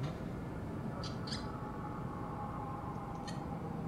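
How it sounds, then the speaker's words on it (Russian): Bird calls inside the horror video game SOMA: a pair of short, sharp chirps followed by one more a couple of seconds later, moderately loud over a steady ambient drone. "Плохая птичка."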